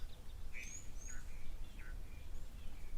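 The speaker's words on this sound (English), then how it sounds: "We can hear the little blue waxbills and chin-spot batis." Blue waxbills and chinspot batis call at a waterhole: thin, high chirps and short whistled notes come and go at moderate distance over a steady low outdoor hum.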